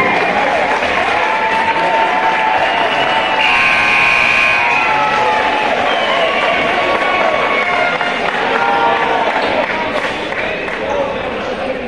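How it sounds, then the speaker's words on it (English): Standing applause for a school coach and principal at a high school sports event, a steady loud wash of clapping and crowd noise filling the whole stretch with cheers rising over it. "Let's get Coach Principal Newman, a standing round of applause."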